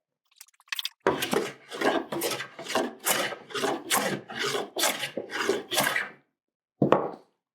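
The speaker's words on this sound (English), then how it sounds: "now this board is held perfectly, and I'm ready to joint it" A hand plane joints the edge of a wooden board clamped in a face vise on a portable workbench; about a dozen close, rhythmic rasping strokes in a steady run, then a final pass after a pause, with no speech.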